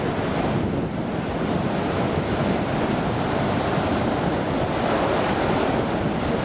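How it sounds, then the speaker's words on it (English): Ocean surf breaking near low tide on the Nehalem coast, a continuous loud roar of waves mixed with heavy wind buffeting the microphone, no voices. "There's Kaylee and Jacob braving the waves."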